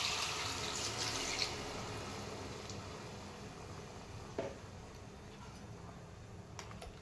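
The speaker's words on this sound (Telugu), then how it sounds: "మనం దీనికి సరిపోయేంత వాటర్ మనం యాడ్ చేద్దాం" Water poured into a pan of mutton curry makes a soft, steady trickling splash with a few small clicks, faint and unaccompanied by speech.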